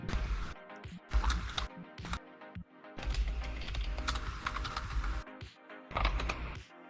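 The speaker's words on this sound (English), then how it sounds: "you're typing quite loudly" Loud, rapid typing on a computer keyboard, dense bursts of clattering keystrokes broken by brief pauses, close and prominent throughout.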